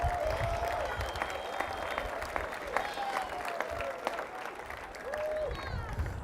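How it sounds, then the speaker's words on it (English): Graduates at a 2016 commencement ceremony applaud in a broad, somewhat distant clatter of clapping, mixed with whoops and crowd voices. "Come on, clap for yourself."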